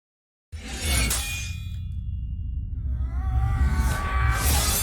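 Swords from the RWBY Red Trailer clang as a blade is blocked and shunted aside, a sharp metallic strike followed by a long ringing tone with further clashes and ringing soon after.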